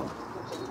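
Spinner pigeons in a loft give a soft, steady murmur of cooing, with low throaty tones running continuously through the short moment, fairly close and without any voices.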